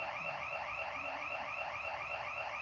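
An alarm sounds continuously, a steady warbling electronic tone repeating in a fast cycle at a constant loud level with no pauses.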